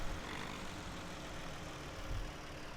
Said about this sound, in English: This little tractor is not very powerful.